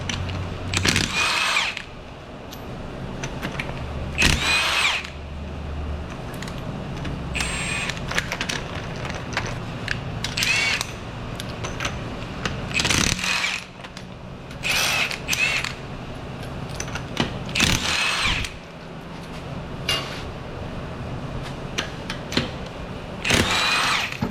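A power tool removing the five 21mm lug nuts from the front wheel of a Lexus RX350 gives repeated loud close whirring bursts, separated by clanks, creaks and handling noise.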